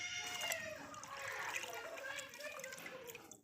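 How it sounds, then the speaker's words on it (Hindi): Carrots drop into a pot of hot water on the stove for boiling, a soft splashing and bubbling wash that trails off over a few seconds, with a voice faintly audible beneath. "गाजरें जो हैं ये इस गर्म पानी में डाल देंगे"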